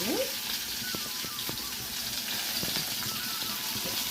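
Fresh curry leaves dropped into hot oil for a tempering, crackling and sizzling steadily at close range with a few sharp pops, the stove switched off.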